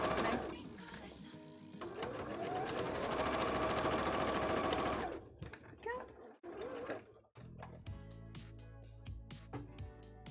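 A sewing machine runs a zigzag stitch along a petticoat with a loud, steady, whirring chatter for about five seconds, then stops, followed by brief handling sounds and a few short bursts of stitching.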